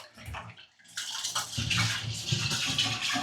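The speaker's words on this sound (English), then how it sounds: "You guys can hear it draining there." Water draining from a bathtub just cleared with a drain snake, a steady hissing, gurgling rush close by that grows louder after a brief quiet moment and continues throughout.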